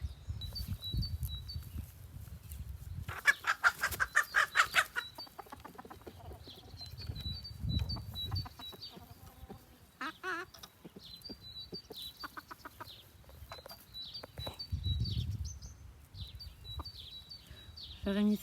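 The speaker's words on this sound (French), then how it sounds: "Là, il y a les poules." Backyard hens clucking and murmuring close by in soft intermittent bursts. A few sharper calls and brief wing rustles rise over quiet surroundings.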